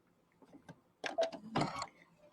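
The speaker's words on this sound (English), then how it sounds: "we're going to sew that on each side with a 1/4 inch seam" Sewing machine running a quarter-inch seam along stripes for a pinwheel quilt square, short close bursts of mechanical clatter separated by pauses.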